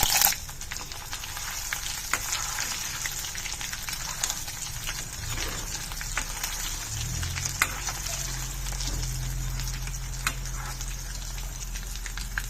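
Snacks frying in oil in a kadai over a medium stove flame give a steady, close crackling sizzle throughout, with a low hum joining partway through.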